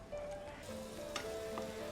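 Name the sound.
onion and garlic sautéing in pan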